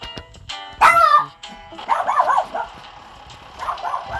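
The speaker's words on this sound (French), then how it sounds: "Je suis désolé c'est mon chien qui aboie." A pet dog barking indoors, a sharp close bark followed by a run of whining, yelping barks and a softer whimper, with no talk over it.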